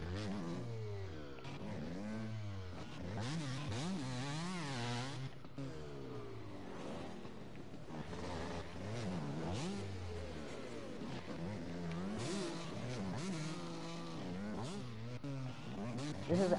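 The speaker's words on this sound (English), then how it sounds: "This is a 2020 KTM 125SX. It's a two-stroke bike." A 2020 KTM 125SX two-stroke dirt bike engine revving repeatedly in a video game, rising and falling pitch sweeps of a buzzy motor, faint and continuous.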